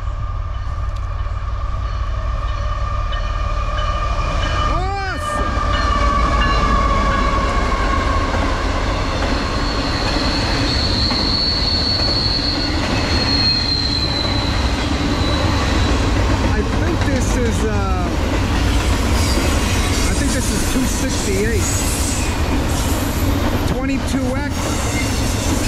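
Norfolk Southern freight train with an ET44AC locomotive leading, passing at speed near woods, a loud sustained roar of rolling cars with wheel squeal and rhythmic clatter that swells and holds throughout.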